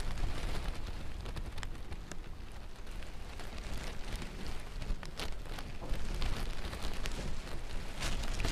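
Steady, dense rain pours down in a continuous hiss with scattered sharper spatters and no pauses.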